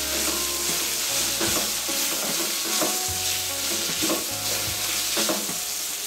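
Brinjal curry fries in a pan with a constant close sizzle, punctuated by regular stirring scrapes roughly every second, over a low steady hum.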